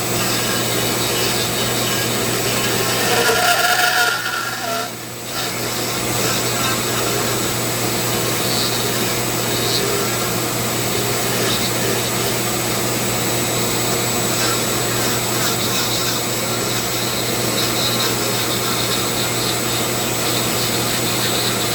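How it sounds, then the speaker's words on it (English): A shop vac draws away sawdust during Dremel carving of a wooden staff. It makes a loud, steady roar close by, with a brief change in tone near the start, and runs without talk. "The hose from my shop vac plugs into it. I turn it on and it sucks away most of my sawdust"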